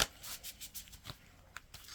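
Tarot cards are shuffled by hand in soft, quick riffling and sliding bursts, faint and close, with no talk.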